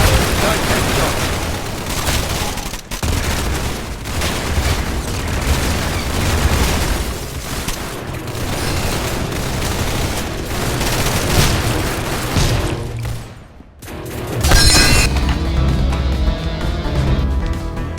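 Video game gunfire and booming blasts fill the stretch, loud and dense and nearly continuous, with a brief drop near the end before the barrage resumes at full force.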